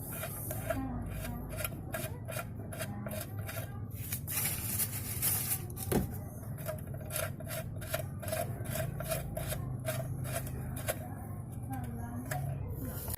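Scraping, ratcheting rasps as a car engine's oil drain plug is screwed back in, a steady series of short metallic strokes close to the listener, with a voice talking over it.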